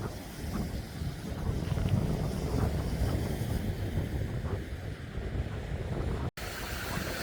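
Ocean swell rolls in along a Western Australian coastline, a steady broad wash of surf with wind buffeting the microphone, continuous and moderately distant, no voices.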